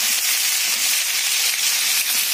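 Masala for aloo chicken frying in a pan, a loud, close, steady hissing sizzle that continues without break.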